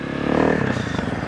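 A Yamaha YZ450 dirt bike lifts into a wheelie in an open lot, its engine droning steadily and fairly close, with a rough revving buzz and some clatter throughout.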